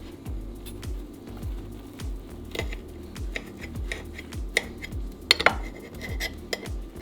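A knife and fork saw and clink through a baked dove wellington, with repeated short scraping strokes against a plate and a few sharp metallic taps, close and moderate in volume.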